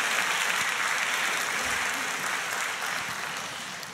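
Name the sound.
congregation applause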